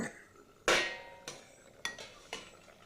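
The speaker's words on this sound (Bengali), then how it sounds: "তখন আমি ঢাকা দিয়ে দিলাম" A metal lid set onto a pot of hilsa fish curry on the stove: one loud clank followed by three lighter rattling taps, close and clear in a quiet kitchen.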